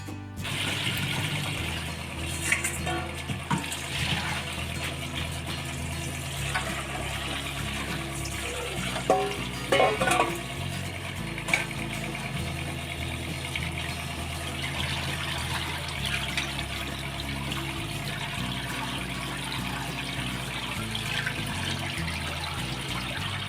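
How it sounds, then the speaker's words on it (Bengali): Chopped pea greens rinsed under a running tap, a steady, fairly loud stream of water splashing and trickling without pause, with no talking. "এরপর আমি শাকগুলোকে কেটে ভালো করে ধুয়ে নেব।"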